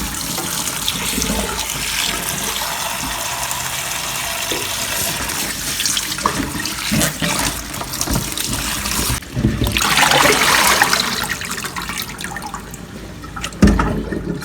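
Tap water runs steadily into a sink while freshly harvested amaranth (callaloo) leaves from a home garden are washed, a continuous close splashing rush with brief clattering and a louder surge of water near the end.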